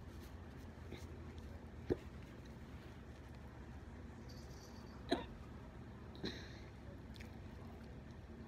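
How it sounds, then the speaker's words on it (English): Three short, sharp hiccups from one person, fairly close, spaced a few seconds apart against a quiet indoor background. "I got the hiccups now."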